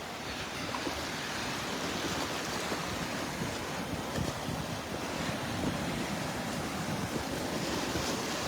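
Ocean surf at Delnor-Wiggins beach rolls in as a steady broadband wash, mixed with wind buffeting the microphone, continuous and fairly loud with no talk.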